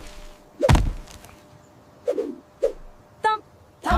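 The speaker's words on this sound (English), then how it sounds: "W is for wallaroo." A wallaroo thumps several times in a sparse, uneven rhythm: one heavy thud followed by lighter, short knocks, close and alone against a quiet background.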